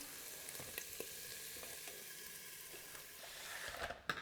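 Tempeh browning in a pan, a soft steady sizzle and crackle of frying with scattered small pops and a few stirring clicks, fairly faint and continuous with no talking.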